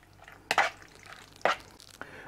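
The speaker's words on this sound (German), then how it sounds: "Jetzt kommt dann auch schon die saure Sahne dazu und auch das wieder ordentlich verrühren." Sour cream stirred into a cucumber salad, two wet, squishy stirring strokes about a second apart plus a lighter third, close and quiet with no talk.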